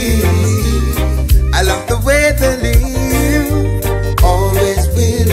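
Mastered reggae track playing loud and full, with a steady low bass line, offbeat rhythmic stabs and bright melodic lines running continuously without talk.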